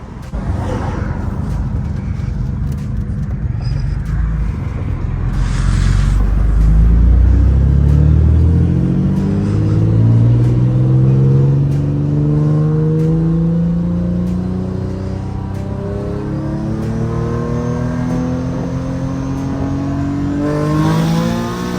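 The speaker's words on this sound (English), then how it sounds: "As soon as I start hitting boost, this thing feels like it's about to completely take off." Nissan 350Z with a turbocharged engine accelerating hard under boost, loud and close, its pitch climbing steadily through a long pull with a brief dip near the middle before rising again.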